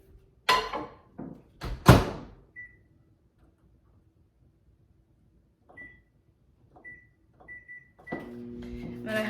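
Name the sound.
microwave oven melting butter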